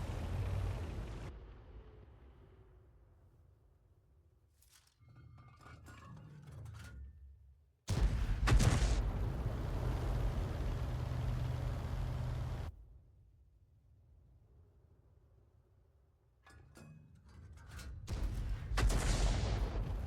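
Artillery shells burst near a rock in a tank video game: three heavy blasts, the middle one loudest with a long rumbling tail lasting several seconds, separated by quieter gaps.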